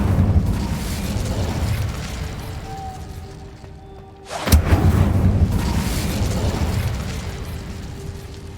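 A spell cast in the Hogwarts Legacy game lets off a sudden fiery burst, a sharp boom over steady game ambience and music, followed by a rumbling roar that fades slowly.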